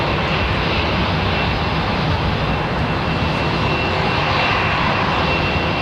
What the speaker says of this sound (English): Suck a lot of air up, don't they, those XWBs